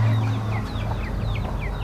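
Chickens cluck with short, repeated calls in an uneven rhythm, fairly close, over a low steady hum in the background.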